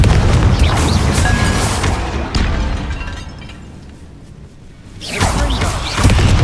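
A Confringo fire spell goes off in a tomb in Hogwarts Legacy, a deep booming blast that swells, fades into a quieter stretch, then is followed by another burst of rumbling impacts.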